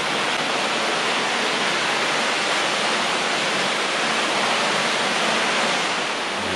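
A stream flows through a limestone cave on Okinoerabu Island, a steady, loud broadband rush of running water with no pauses and no talk.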